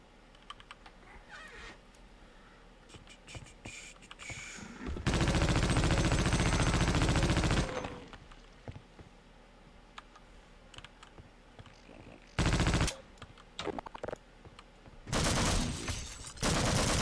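Loud bursts of automatic gunfire in the video game Half-Life: Opposing Force, a long sustained volley and two shorter blasts, set between stretches of quiet keyboard typing and clicking.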